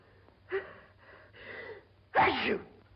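A sneeze from a 1939 film scene: a few short, breathy gasping intakes build up before one loud, sharp sneeze bursts out near the end, close and clear against a quiet room.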